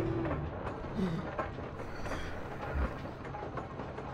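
A train ride in Serious Sam 4 rumbles and clatters steadily with a dense mechanical clickety-clack, loud and continuous, while a faint voice speaks briefly over it.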